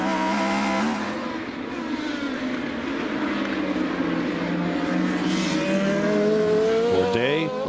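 Formula 3000 race cars at the Hungaroring in 2002 scream past at high revs, a loud continuous engine roar with rising and falling pitch as cars accelerate out of a corner, layered over trackside commentary.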